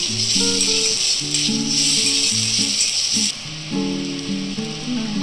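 Garlic paste sizzles in a hot pan, with sliced onions already fried, while cooking a stingray fish curry. A steady, bright frying hiss runs throughout under background music.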